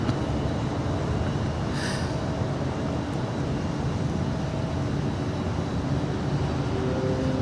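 A Delta Airlines Boeing 767-400ER jet produces a continuous wideband roar, steady and fairly loud throughout, heard from a rooftop vantage at LAX.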